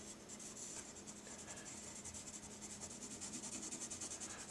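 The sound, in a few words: pencil shading on paper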